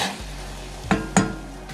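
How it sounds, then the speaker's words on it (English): Lemon being stirred into ginger tea boiling in a pot, two short clinks of a spoon against the pot over a low steady simmer, close and alone. "we're gonna go ahead and put in our lemon and give it a little stir"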